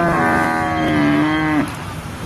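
A single cow at the Manapparai cattle market lets out one long, loud, close moo that holds steady for about a second and a half before breaking off, with low crowd murmur underneath.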